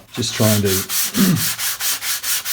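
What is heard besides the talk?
sanding guitar body with sandpaper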